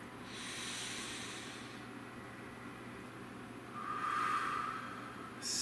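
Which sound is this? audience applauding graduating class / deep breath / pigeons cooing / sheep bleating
deep breath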